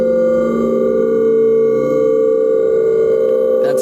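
A processed magic wand sound effect rings out as sustained, steady tonal hums layered in bright harmonics, holding evenly loud throughout with a faint shimmering flourish near the end.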